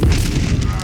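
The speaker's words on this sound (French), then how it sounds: "La poudre et le boulet de canon à l'intérieur fusent." A cannon firing in a Warhammer fantasy audio drama: a heavy, close boom with a deep low rumble that rolls on without a break for just under a second.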